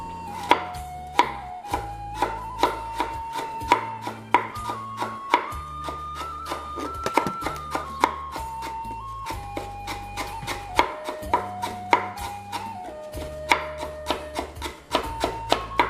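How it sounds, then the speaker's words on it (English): A knife chops garlic and lemongrass on a cutting board for Cambodian kroeung paste, a steady stream of sharp close taps in quick rhythm, with sustained musical tones running underneath. "she's just slicing everything up or chopping everything up into smaller"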